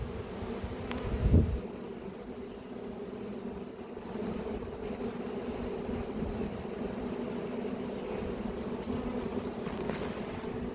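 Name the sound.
swarming honey bees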